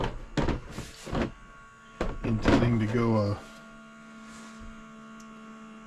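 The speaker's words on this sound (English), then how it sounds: "it sounds like the engine kind of changed tones" A PetPivot Autoscooper 11 self-cleaning litter box motor gives a steady low hum that runs on alone after a person finishes speaking over its start.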